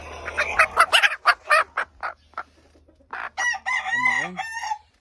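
Chickens, including an Asil sweater hen, cluck in quick, irregular bursts close by, followed by a rooster-like drawn-out crowing call near the end.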